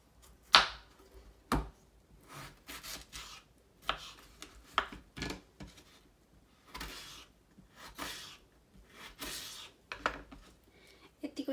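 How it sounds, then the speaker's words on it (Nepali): Knife cutting potatoes into equal-size wedges on a board, a series of separate chopping strokes spread unevenly across the stretch, some sharp and close, others softer scraping cuts. "यसलाई म अब एउटै साइजमा काट्ने छु"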